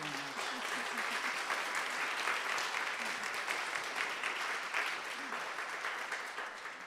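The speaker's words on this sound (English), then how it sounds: "So I think that's worth another round of applause." Audience applause at a Harvard talk and Q&A on race, steady and dense clapping from a full room for nearly seven seconds, with a faint voice underneath at the start.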